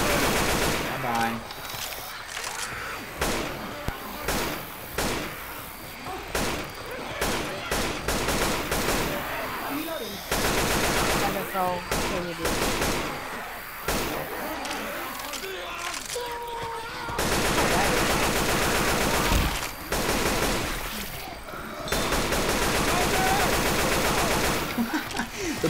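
Rapid AK rifle fire in Left 4 Dead 2, dense repeated shots in long bursts with a few short pauses, loud and continuous through the scene, with a person talking over it at times.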